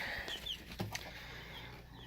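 Brahma chickens, hens and a rooster, cluck softly in a backyard, with brief chirps and a faint rustle over steady low background noise.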